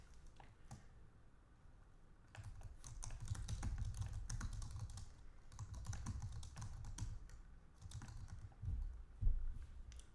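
Typing on a computer keyboard while entering a revision description in SOLIDWORKS Electrical, a quiet, close patter of rapid keystrokes in bursts with brief pauses and no talking.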